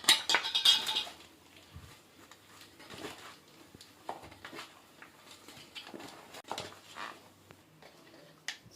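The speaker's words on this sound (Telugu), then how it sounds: "ఇప్పుడు ఇందులోకి చిన్నగా తరిగి పెట్టుకున్న తెల్లగడ్డ ముక్కలు, మిరప్పొడి, గరం మసాలా వేసి కలుపుకుందాం." Chopped garlic, chilli powder and garam masala being stirred into a potato mixture for cheese balls: quiet, irregular clinks and scrapes of a spoon against a bowl, close and soft.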